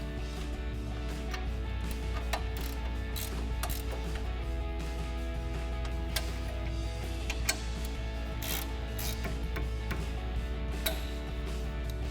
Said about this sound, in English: tighten them up with our 15mm socket